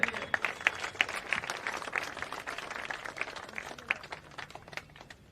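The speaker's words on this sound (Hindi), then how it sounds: "इसलिए इनके ताली बजाइए।" Applause at a Bihar political rally honoring an elder, with scattered clapping hands forming a steady patter of broadband claps at moderate volume, fading slightly toward the end.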